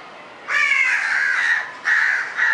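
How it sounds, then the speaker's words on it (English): House crows caw loudly and close by in harsh repeated calls, one long run of caws followed by two shorter bursts after a brief pause. "house crows, being very intelligent, were scared to approach the baby crow and they kept flying around"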